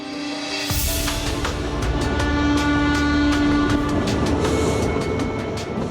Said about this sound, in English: they will journey to their fate in style, aboard the luxury train